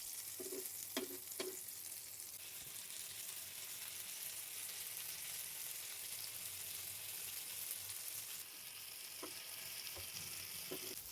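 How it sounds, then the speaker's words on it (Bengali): Masala-coated pomfret fish fries gently in a pan over a medium flame, a faint, even hiss of sizzling oil with a few light clicks of utensils early and late. "2 পিঠ মিডিয়াম ফ্লেমে আস্তে আস্তে করে ভেজে নেব"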